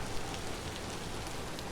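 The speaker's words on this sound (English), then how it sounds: "It is still raining." Steady, dense rain pours in the Vintage Story video game, a continuous even hiss with no breaks or other sounds.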